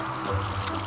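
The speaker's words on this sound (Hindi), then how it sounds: "जैक ने तो चाय की केतली से उबलता पानी सीधे टब में डाल दिया है।" Boiling water from a tea kettle pours straight into a bathtub, a short steady splashing stream running without break.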